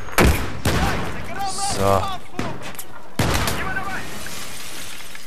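Bursts of gunfire in the video game Battlefield 3 crack out loud and close as sharp broadband blasts, interrupted by a tonal in-game sound effect, while someone speaks briefly.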